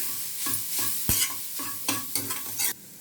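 Ingredients with salt frying in a pan for a Tamil New Year dish, a steady sizzle broken by several scraping stirs of a spoon against the pan, close and clear with no one talking.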